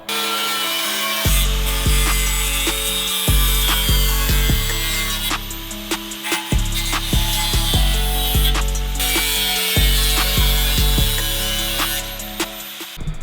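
Repeated bursts of harsh grinding and cutting as metal tabs are cut off a Subaru WRX STI, several passes in a row with brief pauses between, loud and close with no talking.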